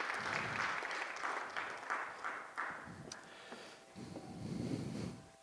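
Audience clapping for the OGC members in a ballroom at the SCaLE 23x conference, moderately loud and uneven, with bursts that fade and swell again over several seconds.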